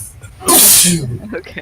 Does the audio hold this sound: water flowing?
no